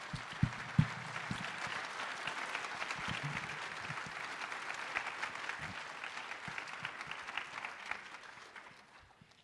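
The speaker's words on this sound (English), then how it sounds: "give Williams a round of applause" Sustained applause from an audience at a school district end-of-year awards assembly, steady clapping that fills the room before tapering off near the end.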